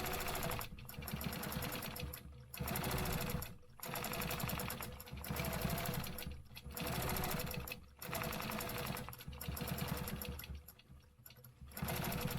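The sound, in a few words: sewing machine stitching a half-inch quilting grid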